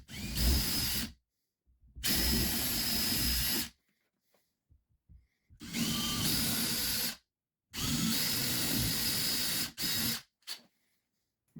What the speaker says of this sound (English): So we're just going to drill these out.